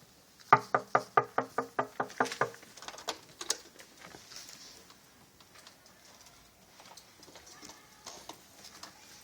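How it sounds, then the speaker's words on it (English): Rapid knocks rap on a chamber door, about a dozen evenly spaced blows that fade in strength, followed by a few softer, scattered taps and quiet room noise. "so gently you came rapping, and so faintly you came tapping at my chamber door"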